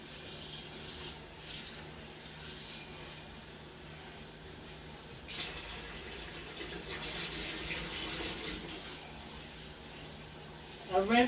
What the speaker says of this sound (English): I rinse it in cold water at least 3 times.